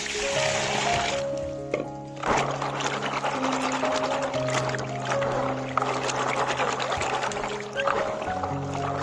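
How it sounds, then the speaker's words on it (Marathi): Water sloshes and splashes as wild karvanda berries from the Konkan are rinsed, a soft, steady liquid churning with faint musical tones playing underneath. "दुसऱ्यांदा पाणी टाकतो आणि चांगले पाणी धुवून घेतो"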